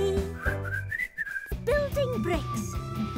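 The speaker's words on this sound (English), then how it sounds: "whistling a happy melody" Someone whistles a bright, bouncy tune over a cheerful backing track, the melody rising and dipping in quick phrases.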